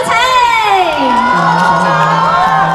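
A live audience cheers and whoops for a singer as he is introduced to perform on the music show 港樂。講樂. The crowd noise is loud and continuous, with rising and falling shouted voices throughout.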